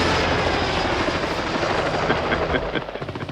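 A helicopter roars overhead with a dense, chopping rotor thrum, loud and continuous, the beating pulse growing more distinct toward the end.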